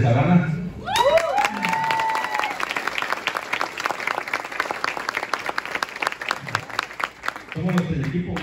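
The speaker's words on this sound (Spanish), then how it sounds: "Un aplauso para los campeones de Sabana." A crowd applauds the Sabana champions with brisk, sustained clapping that follows a short whoop and cheer, the claps sharp and close before thinning out as voices return at the end.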